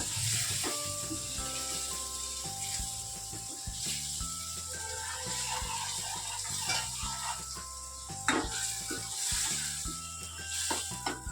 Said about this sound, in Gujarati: હવે આ મસાલા ચડવા માટે આપણે થોડુંક પાણી નાખશું